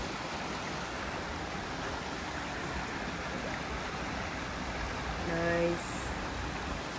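A stream at Silver Lake in June Lake, California, runs full with snowmelt, giving a steady, even rush of flowing water throughout, with a faint brief tonal sound near the end.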